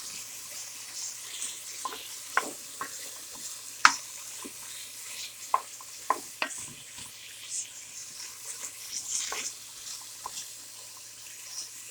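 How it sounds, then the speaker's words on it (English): Chopped vegetables sautéing in a soup pot for homemade chicken soup, stirred with a utensil: soft sizzling under scattered scraping knocks and clinks, irregular and close. "I'll give that a good quick stir."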